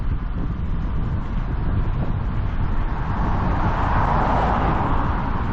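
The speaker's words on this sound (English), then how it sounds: "the wind was a crosswind, slightly over me left shoulder, slightly behind it" Crosswind roaring over a microphone on a bicycle rolling down a gradual country-road descent, a loud, continuous low rumble that swells slightly toward the end.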